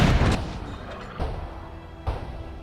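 Cannon fire in Napoleon Total War, an artillery piece shooting round shot: a heavy boom at the start, then two more distant reports spaced about a second apart.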